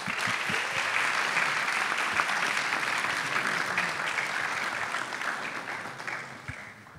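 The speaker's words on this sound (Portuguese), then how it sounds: "Uma salva de palmas." Sustained audience applause welcoming two presenters onto a stage at a talk, a steady wash of many hands clapping at moderate volume that slowly fades toward the end, with no voices over it.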